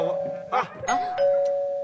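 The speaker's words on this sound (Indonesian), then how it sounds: "Nah, ini saatnya ting tong." A doorbell ding-dong sound effect rings out, its two-note chime sustained and repeated, with people talking over it.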